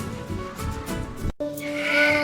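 A cartoon goat, the family's Eid sacrificial animal, bleats loudly and close, one wavering cry, a brief break, then a second rising bleat.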